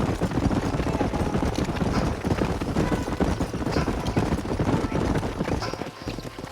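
Several horses' hooves clip-clop steadily on open ground in the Western video game Red Dead Redemption, a dense, continuous trotting rhythm close by with faint background voices.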